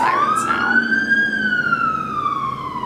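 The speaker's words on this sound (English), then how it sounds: "So you can hear the sirens now." An emergency vehicle siren wails outside an apartment after a car accident, one loud, clear rising-and-falling tone that holds strong across the whole stretch over faint traffic rumble.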